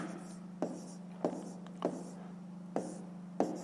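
Pen writing a math sum on paper, five short scratchy strokes in an irregular rhythm, close and quiet over a faint steady electrical hum.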